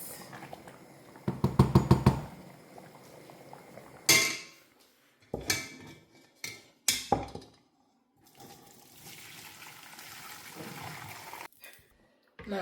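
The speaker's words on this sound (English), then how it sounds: "Now I'm going to sieve it." Cooked ukwa (African breadfruit) is sieved in a pot: a rapid rattling scrape of metal and grains, then separate clanks and knocks, followed by a softer wet hiss of liquid draining.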